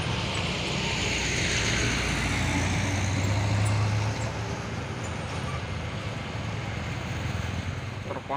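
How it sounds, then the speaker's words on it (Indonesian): A Mitsubishi Fuso intercooler truck labours up the steep Bukit Kodok hill road, its engine giving a loud, low continuous rumble that peaks midway as it passes nearby, with general traffic noise around it. "Dan ada juga truk Fuso intercooler ini ya"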